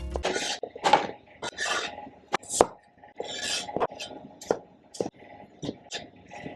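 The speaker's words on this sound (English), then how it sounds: "Cut your potato however you like. I'm going to cut it into little triangles." A knife chops a potato into little triangles on a cutting board, giving a string of sharp, close, irregular knocks and scraping taps, with board and utensil clatter between the cuts.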